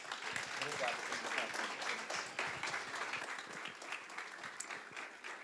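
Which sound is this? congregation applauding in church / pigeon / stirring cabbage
congregation applauding in church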